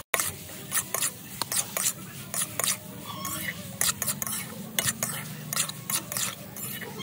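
Fried potato and pointed gourd pieces being sautéed in oily spice masala in a pan, with a utensil scraping and clicking in an irregular rhythm over a low, soft sizzle, close by.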